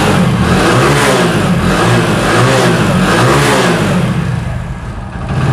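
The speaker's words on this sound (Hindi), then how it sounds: "अब हम इसका इग्निशन स्विच ऑन कर लेंगे और अब आपको दिखाएंगे कि गाड़ी हमारी स्टार्ट होती है कि नहीं स्टार्ट होती है।" A motorbike engine fires up after its ignition is switched on, having been fitted with its old spark plug. It revs loudly and steadily throughout with no talking, then eases off slightly near the end.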